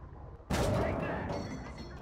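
Gunfire in Gates of Hell: Liberation erupts as a sudden loud blast after a quiet moment, followed by a rolling rumble and distant battle noise.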